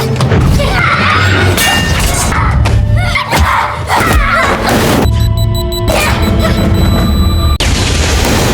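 Heavy booming blasts and crashes ring out over a dense, loud action soundtrack, with rumbling impacts continuing throughout.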